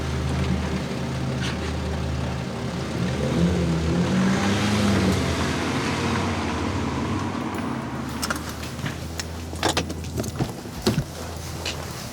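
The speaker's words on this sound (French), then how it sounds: "la voiture qui vient de passer là?" A car passes by outdoors, its engine swelling to a peak and then fading away, followed by a few clinking, jangling sounds near the end.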